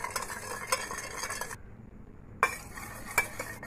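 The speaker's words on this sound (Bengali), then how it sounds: "এটা ভালো করে আমি চিনিটাকে নেড়ে নেড়ে এইভাবে মিশিয়ে নেব।" A spoon stirring sugar and dry yeast into warm water, soft scraping swirls broken by a few sharp clinks against the bowl, close and quiet with no voices.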